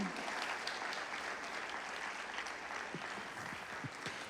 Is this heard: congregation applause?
yes